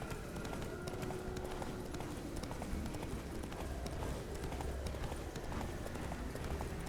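Roach, Geralt's horse in The Witcher 3, gallops with a steady, soft clip-clop of hooves under a constant game-ambience hiss, with no talking.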